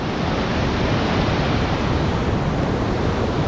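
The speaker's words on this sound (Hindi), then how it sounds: "पानी देख रहे हो पानी कितना तेज आ रहा है" Fast-flowing river water rushing beneath a bridge on the trail near Kedarnath, a loud, steady broadband roar filling the whole clip with no voices.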